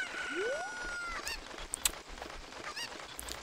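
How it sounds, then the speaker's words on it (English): A chicken in Zelda Ocarina of Time gives a few short, squawky clucks, close and fairly clear, after a rising whistle-like game tone. "Can I please grab the chicken?"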